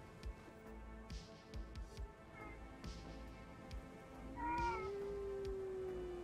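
A cat meows faintly, a rising drawn-out call near the end over a steady murmur of background noise and light clicks.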